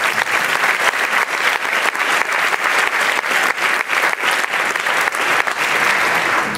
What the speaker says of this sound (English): let's have one more round of applause for the team officers